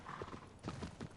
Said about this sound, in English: I'm gonna get back on my horse, though.